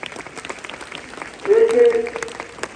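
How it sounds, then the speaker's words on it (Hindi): Students at a school assembly applaud together, a broad burst of clapping swelling in the middle and fading, with a voice over it. "उनकी टीम का हम तहे दिल से धन्यवाद करते हैं, जोरदार तालियों के साथ"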